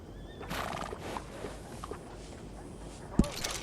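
A horse whinnies and snorts in the video game Red Dead Redemption 2 amid a steady ambient bed, with soft hoof clops and a sharp knock near the end.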